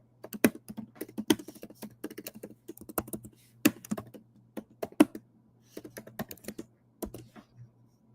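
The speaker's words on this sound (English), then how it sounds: "This I'm telling you what I'm typing out." Close, clicky typing on a computer keyboard in irregular bursts, with sharp key strikes and short pauses over a low steady hum, no voices.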